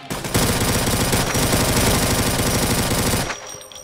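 Rapid automatic gunfire from a weapon in the video game Doom Project Brutality, a loud sustained burst of closely spaced shots lasting about three seconds before cutting off into a faint ringing tail.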